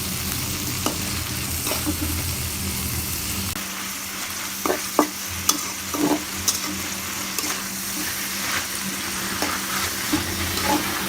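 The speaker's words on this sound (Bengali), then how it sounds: "আমি তেলের ভিতরে এখন পেঁয়াজ কাঁচামরিচ একসঙ্গে দিয়ে দেবো।" Chopped onion and green chili frying in hot oil in a pan, a steady loud sizzle that runs throughout with occasional stirring clinks, no voices.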